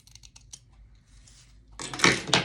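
Scissors snipping through the ribbon backing of a needlepoint belt: a few light, close snips, then a louder, longer crisp cut to finish.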